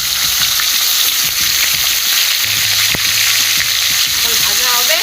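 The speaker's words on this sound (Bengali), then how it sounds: "তেল হয়ে গেছে, এখন মাছের মাথাটা ছেড়ে দিলাম" A rohu fish head dropped into hot oil for a taro-greens recipe, crackling loudly in a dense continuous sizzle with bursts of spatter, very close and alone.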